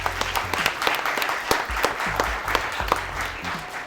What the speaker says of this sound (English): give my artists a round of applause